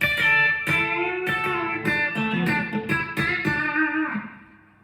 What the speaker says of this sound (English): it's just really straight twang guitar after that